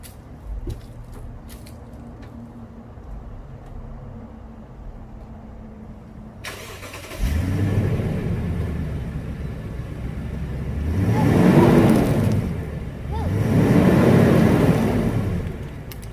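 A 2016 Toyota Land Cruiser on its stock exhaust, before Doug Thorley headers are fitted: quiet idle first, then the engine fires at about seven seconds into a steady, fairly loud rumble with two swelling revs near the end.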